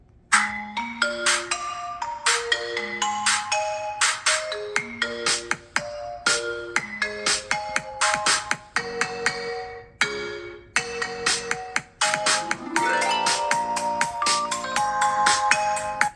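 A Samsung Galaxy Z Fold 4 plays a melodic ringtone through its stereo speakers at full volume in a quiet room, with bright repeated chime-like notes that run clear and steady, alone and without talk.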